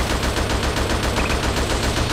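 Rapid-fire gunshots from the Xbox 360 shooter Attack Of The Movies 3D, a loud, steady stream of evenly spaced shots lasting the whole stretch with no voices.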